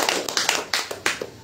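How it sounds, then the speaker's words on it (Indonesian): Scattered hand claps from a small audience at an Islamic study gathering, a handful of sharp, separate claps in an uneven rhythm, close and brief. "Tepuk tangan buat yang sudah bayar"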